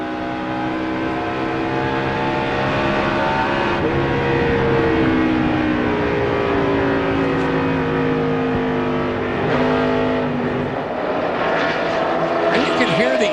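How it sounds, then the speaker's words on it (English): NASCAR stock cars roar around Pocono Raceway at the 2005 Pocono 500, their engines lugging hard in a loud, continuous drone with overlapping pitches rising and falling as cars pass. "And you can hear the engines, Larry."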